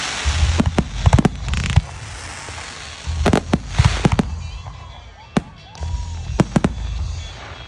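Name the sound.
fireworks display sound effect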